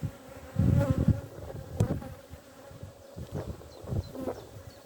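Honeybees buzz all around an opened hive during a spring inspection in Ireland, a steady close drone with individual bees passing near. Frames knock and rustle under the buzzing, and no voices are heard.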